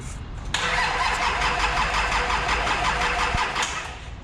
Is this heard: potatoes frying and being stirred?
no